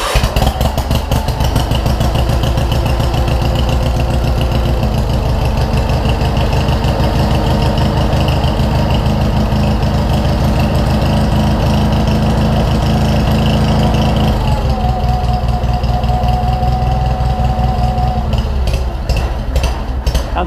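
A Case 446 garden tractor engine runs loud and close with a rough, throbbing idle, then its pitch rises as it revs up near the end.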